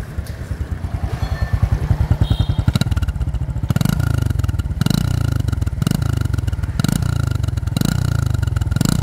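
Honda Wave Thai 110 motorcycle engine running close up, first a fast steady putter, then a series of sharp throttle blips rising and falling in a regular rhythm, with no speech.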